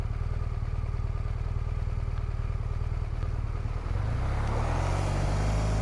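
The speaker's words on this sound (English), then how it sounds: "There's a car coming, 2 cars coming, 3 cars." Near, continuous engine noise dominates as vehicles pass on a road through Chatsworth, the rumble shifting and swelling toward the end as another car goes by; no speech is heard.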